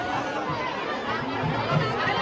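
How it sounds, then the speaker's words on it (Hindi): Dense crowd chatter at the busy Janti Devi temple fair, a continuous murmur of many overlapping voices close around. "बहुत भीड़ है भाइयों, बहुत भीड़ है"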